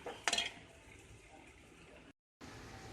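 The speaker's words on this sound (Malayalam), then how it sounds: "ഞാൻ നാരങ്ങ ഇടാൻ പോവാം അരങ്ങിയിട്ട് നല്ലതുപോലെ ഇളക്കി യോജിപ്പിക്കാം" Lemon pickle being stirred in a pan, starting with a sharp clink of a spoon against metal, then a faint steady scraping and shuffling, a brief silent gap, and quiet stirring resuming.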